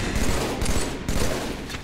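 Brute Shot rounds firing in Halo 3: a loud, dense burst of rapid blasts in quick succession, with two brief breaks between volleys, close and with no voices.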